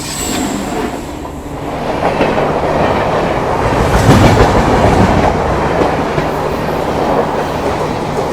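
Indian Railways New Delhi–Dibrugarh Rajdhani Express passing near the Yamuna river approach to New Delhi, a loud steady rush of wheels with rhythmic clickety-clack and faint squeal, heard close from an adjacent train, no talk.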